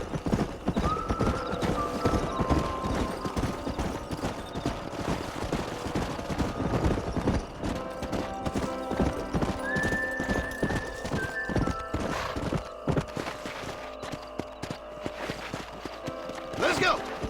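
Busy clatter of hooves trotting along with occasional horse whinnies and neighs in the video game Red Dead Redemption, plus voices talking over the scene.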